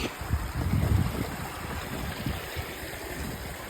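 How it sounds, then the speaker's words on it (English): A mountain beck in the English Lake District near Haystacks rushes and splashes steadily close by while someone crosses it on foot, with wind buffeting the microphone early on. "Crossing the beck."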